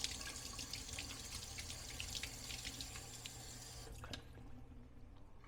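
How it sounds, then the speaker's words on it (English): Water from a running kitchen tap splashes steadily while hands are rinsed during meal prep, a constant close rush that cuts off near the end. "Just rinse my hands out,"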